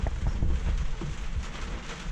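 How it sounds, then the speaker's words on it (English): Steady roaring wind buffets the microphone aboard a Bavaria sailboat, with a constant noisy wash of sideways driving rain, continuous and loud throughout. "It's blowing really badly, and it is raining sideways"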